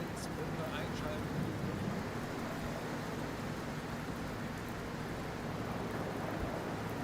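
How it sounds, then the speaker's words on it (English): Steady rain hiss from a U-boat submarine game, a dense continuous wash of noise at moderate level with faint low rumbling underneath and no pauses. "let me go to the map so that the rain sound stops"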